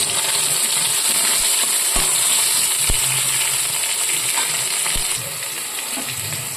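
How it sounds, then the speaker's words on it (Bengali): Potatoes and tomato fry in hot oil with five-spice seeds in a pan, a loud continuous close sizzle punctuated by a few sharp utensil clicks and stirring sounds, with no speech. "ওই তেলেই আলুগুলো ভাজতে দিলাম।"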